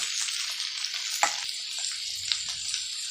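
Six medium tomatoes sautéing in a pan for a chutney, a steady soft sizzle with a couple of brief spatula scrapes, no talking.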